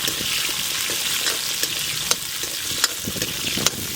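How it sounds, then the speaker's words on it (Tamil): Small onions, garlic and ginger sauté in hot oil for a Tamil oil-brinjal kara kuzhambu, giving a steady close sizzle with occasional sharp spits and stirring clicks and no talking. "வெங்காயம், பூண்டு, இஞ்சி எல்லாமே பச்சை வாசனை போக நல்லா வதங்கிக்கிறேன்னா"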